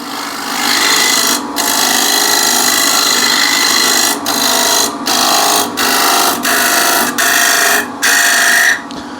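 A scraper refiner smooths a wooden surface in loud, close, rasping strokes, about eight long scrapes separated by brief pauses.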